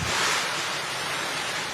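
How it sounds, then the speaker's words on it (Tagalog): Strong gusty wind driving heavy rain during a typhoon in La Union, a dense, roaring wash of noise that stays steady and loud for the short moment, with no talk. "Pabugso-bugsong hangin din ang sumabay sa malakas na ulan sa La Union."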